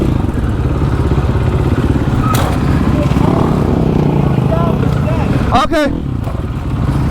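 A supermoto motorcycle engine drones steadily throughout, with a brief louder revving burst near the end, while people talk over it.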